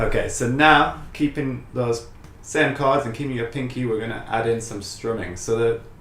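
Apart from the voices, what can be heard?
No distinct noise like a dog, phone or traffic.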